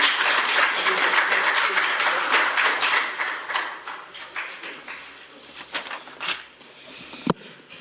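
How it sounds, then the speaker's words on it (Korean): A forum audience claps steadily to welcome a member of the National Assembly to the podium, a dense, even patter of many hands that thins and tapers toward the end with a few scattered claps. "큰 박수로 환영 부탁드리겠습니다"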